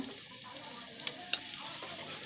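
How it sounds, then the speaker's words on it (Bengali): Spatula stirring fish curry spices (salt, turmeric, Kashmiri chilli powder, cumin powder) with tilapia in a frying pan, a steady soft sizzle broken by a few sharp scrapes and clicks, close and moderately quiet with no talking. "খুন্তি দিয়ে আবার এটাকে ভালো করে মশলার সাথে কষিয়ে নেওয়া হলো"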